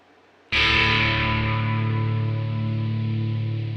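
Electric guitar played through an overdriven amp with EQ and speaker placement but reverb and delay switched off: a single chord struck sharply, then ringing on and slowly fading, with no talking.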